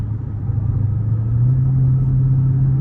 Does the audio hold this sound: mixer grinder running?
no